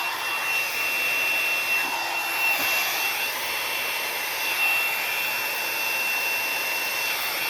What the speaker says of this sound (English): I think I got some paint on the bottom of my blow dryer